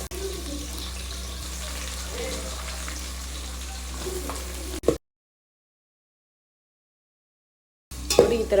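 Onions frying in a pan for chicken biryani, a steady low sizzle with faint stirring knocks, cut off by a few seconds of dead silence before the frying briefly returns louder.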